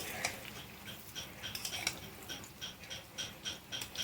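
Pakora fritters are flipped one by one in a frying pan, giving soft, scattered utensil clicks and light taps against the pan over a faint frying hiss, with no voices.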